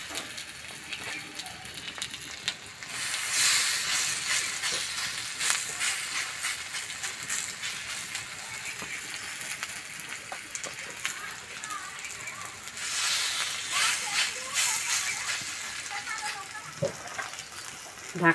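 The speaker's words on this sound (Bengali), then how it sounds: "হালকা আঁচে ভেজে নেব।" Steady sizzling hiss of a semolina and onion batter frying in a little oil on a flat pan over low heat, swelling louder at times with soft crackles, while a voice talks over it.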